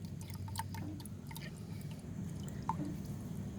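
Quiet trickling and dripping of liquid being strained, with a few soft, distinct drops standing out.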